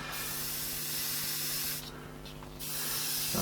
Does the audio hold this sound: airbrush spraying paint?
yes